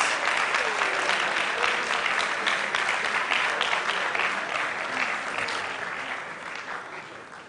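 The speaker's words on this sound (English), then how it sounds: "another round of applause for Mr. Gadiel, our trip prize" An audience at a school quiz review show applauds a prize winner with sustained, dense clapping that stays strong for several seconds before gradually tapering off.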